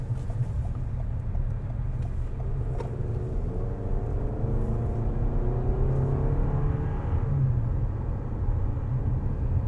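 A 2025 Toyota RAV4 LE, gas-only, heard from inside while driving: a steady low road and engine rumble with a faint rising whir, constant and fairly quiet, with no talking over it.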